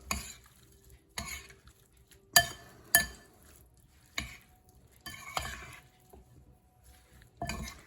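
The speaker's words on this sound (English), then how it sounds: "And then we're going to go ahead and mix it up." Bruschetta mix with salt and pepper being stirred in a bowl, heard as a series of separate close scraping and clinking strokes against the bowl, with quiet gaps between them.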